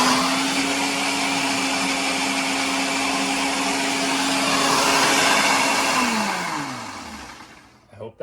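A stand mixer kneads pizza dough with a steady whirring motor drone that holds even, then winds down and slows to a stop near the end.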